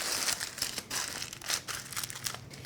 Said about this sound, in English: And I'm pressing in the tin foil on the sides.